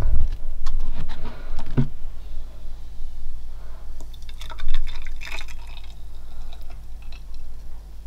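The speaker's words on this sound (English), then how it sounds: "I'll show you when I'm pouring them into the glasses." Myprotein Clear Whey Isolate drink is poured from a shaker into glasses, giving close liquid splashes and drips with a few clinks against the glass.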